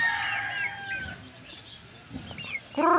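Pet chickens kept by their owner cluck and chatter close by, with a rooster's strained crow at the start and a loud squawk at the end, all without speech.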